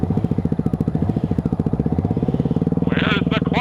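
A 2009 Yamaha WR250F dirt bike engine putters at a steady, close, loud idle with rhythmic firing pulses, and voices come in near the end.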